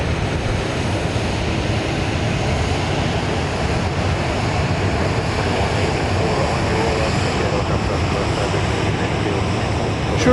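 A jet departs Dallas Love Field on a flight to Denver, producing a dense, continuous engine roar like rushing surf, loud and unbroken from start to finish.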